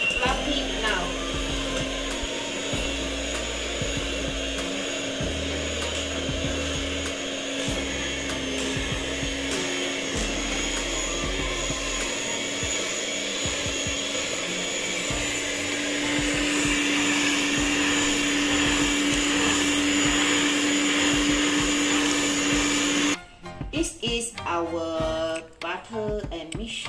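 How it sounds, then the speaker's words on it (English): An electric mixer beats butter and other sponge cake ingredients with a steady, loud motor whine for about twenty seconds, then stops as clattering and handling noises follow. "next we mix this again for 1 minute so that the butter and the ingredients is fluffy now"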